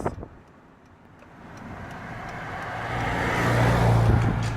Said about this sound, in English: I'm going to pull over and let this truck go past me so I don't miss the apartments